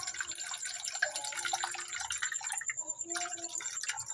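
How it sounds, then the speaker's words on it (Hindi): Two cups of water are poured into a pot of Kahwah tea ingredients, making a steady splashing, trickling stream that runs for several seconds at close range with no speech. "और 2 कप पानी डालेंगे हम लोग।"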